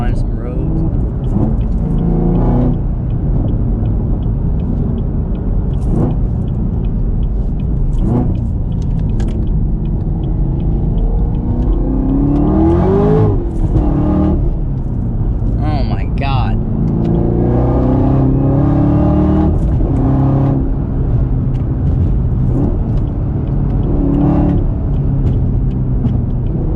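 2019 Camaro ZL1 1LE supercharged V8 heard from inside during a drive, a steady loud rumble with revs rising and falling, while people talk throughout.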